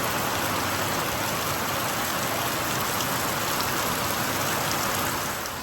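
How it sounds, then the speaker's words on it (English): Heavy rain pours steadily onto a trail shelter on the Appalachian Trail, a dense, loud, unbroken hiss with no pauses and no voices. "That's the kind of rain that gets through everything."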